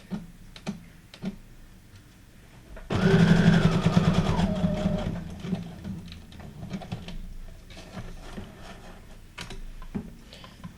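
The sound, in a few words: sewing machine sewing a zigzag stitch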